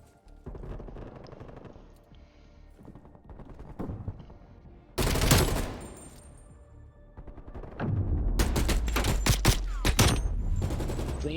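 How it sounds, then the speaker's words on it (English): Bursts of gunfire from a video game at a Quarantine Cup esports match, with loud volleys of shots, a dense burst near the middle and a sustained rapid stretch at the end, layered over game sounds. "Clean shooting from Pookie."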